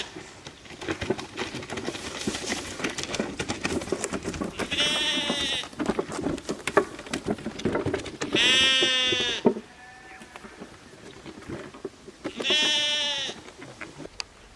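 Goats in a temporary portable pen in a pasture give three loud, drawn-out bleats spaced a few seconds apart, with quieter rustling and movement between calls.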